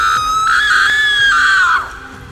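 A burning spirit in a horror cartoon lets out one loud, drawn-out scream lasting about two seconds, its voice sliding downward at the end before stopping, with no other voices.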